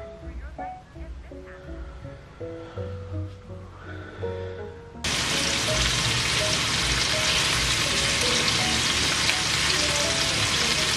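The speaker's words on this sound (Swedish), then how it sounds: "Sen så stekade jag det i smör." Chicken breasts wrapped in bacon fry in butter in a pan, a loud continuous sizzle starting abruptly midway after quieter kitchen sounds and a faint voice at the start.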